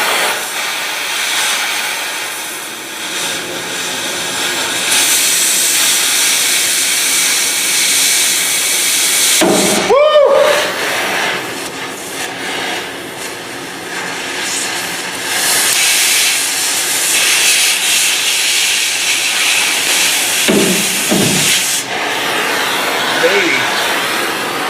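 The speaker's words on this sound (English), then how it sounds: "Now when you're cutting U-bolts, they will scare the pudding out of you." U-bolts on a Chevrolet or GMC 1500 truck rear leaf spring are cut with a loud, continuous hissing roar of a cutting tool, with a sharp bang partway through and shorter bursts after.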